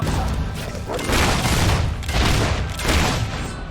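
Rapid bursts of gunfire from the Fable 3 video game, several loud volleys in a row with short gaps between them, and nothing else heard over the shooting.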